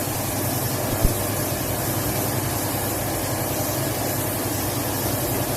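An aerosol spray can of paint hisses steadily onto a part in one continuous close spray lasting several seconds, with a small knock near the start.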